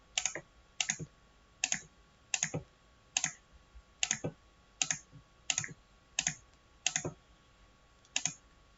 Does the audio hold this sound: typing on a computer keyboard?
yes